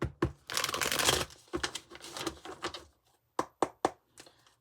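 Tarot deck being shuffled by hand, a dense riffling burst followed by several sharp, close card taps and snaps in a quiet room.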